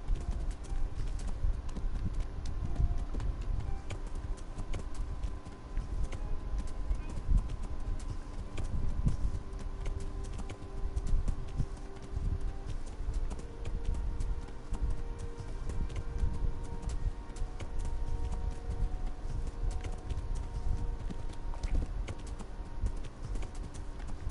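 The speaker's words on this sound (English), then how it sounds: "so dangerous riding a horse at night" Continuous rhythmic clopping of horse hooves at a steady gallop at night in Kingdom Come: Deliverance, close and loud, with a low rumbling background and faint tonal game ambience.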